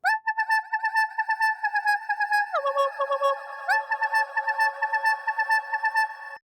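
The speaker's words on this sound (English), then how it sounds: "This hall reverb sounds a little too algorithmic for me" A bright synth recreating the Fred again.. "Turn On The Lights" sound plays a bouncy sequence of repeated notes, shifting pitch midway, with a spacious, lingering hall reverb tail; no voices.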